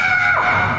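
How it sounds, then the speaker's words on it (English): A woman screams loudly in an airport terminal, one sustained high cry that slides downward and then trails off. "Oh! I'm mad if I don't scream."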